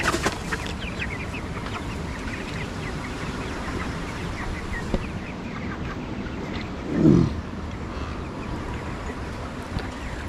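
A flock of 25-day-old broiler chickens squawks and clucks in a poultry shed, making a dense, continuous background din with one louder squawk near the end and no speech.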